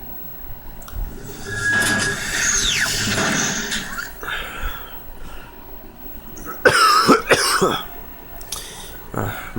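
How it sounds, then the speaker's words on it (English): A man coughs and clears his throat loudly and close, a few harsh bursts breaking up a stretch of background noise, with no talking over them. "Man, coughing problems again."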